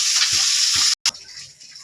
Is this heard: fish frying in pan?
yes